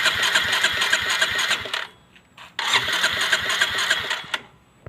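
Yamaha Mio Soul i 125 scooter engine with its head cover removed, running with a rapid, loud mechanical clatter that cuts out briefly and restarts, then idles on steadily up close with a few sharp ticks.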